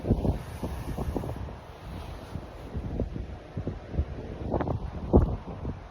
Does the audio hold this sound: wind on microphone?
yes